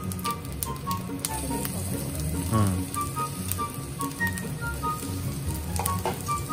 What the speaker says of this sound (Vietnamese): Xong rồi mình sẽ cho hành vô nha.